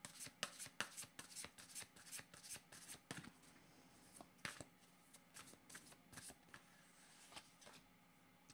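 Tarot cards being shuffled by hand in a run of quick, crisp riffles and flutters, close and fairly quiet, with no talking.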